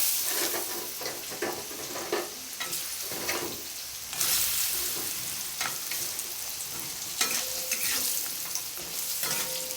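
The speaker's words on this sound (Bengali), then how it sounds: "এখন আমি কড়াইয়ে যে তেলটা বেঁচে গিয়েছিল সেই তেলের মধ্যেই বড়িগুলো ভেজে নেব" Lentil dumplings (bori) fry in leftover oil in a wok, a constant crackling sizzle broken by repeated scraping stirs, close and fairly loud, with no voices.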